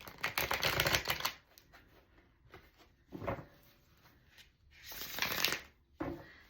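Worn, thin reading cards are shuffled in several quick riffling bursts at close range, crisp papery flutters separated by short pauses.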